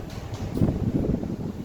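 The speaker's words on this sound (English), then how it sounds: "So much wind." Strong wind buffets a microphone on the deck of a cruise boat on a lake, a close, gusty low rumble that surges briefly with no speech.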